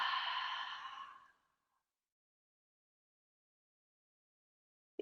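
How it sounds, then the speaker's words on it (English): A single deep exhale during a yoga flow, a close, breathy sigh lasting just over a second and fading into silence. "Another deep breath in. And exhale it out."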